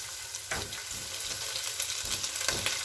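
Onions fry in hot oil as ginger garlic paste goes in for a chicken mince dish, giving a steady close sizzle with a few sharper spatters and stirring scrapes and no talk.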